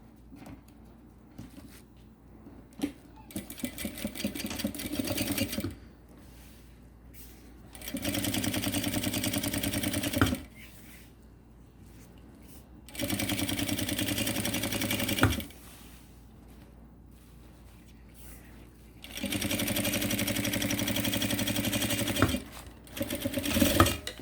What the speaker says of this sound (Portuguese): Então, aqui, a gente costura.